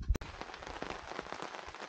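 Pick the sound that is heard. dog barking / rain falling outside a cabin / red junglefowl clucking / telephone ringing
rain falling outside a cabin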